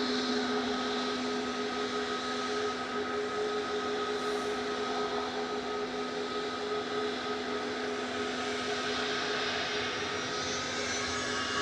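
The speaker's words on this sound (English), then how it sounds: "That's the EasyJet going to Nice, GEZUR flight 2103, heading back to gate" An easyJet airliner taxiing back to the gate at Manchester Airport gives a steady, sustained engine hum with a droning tonal whine, fairly close and continuous throughout, with no talk.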